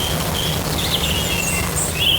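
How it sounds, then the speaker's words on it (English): Bird recording run through a bit crusher effect: chirps and tweets buried in a constant, harsh digital hiss and grainy distortion that goes on without a break. "we can still kind of hear that they're birds"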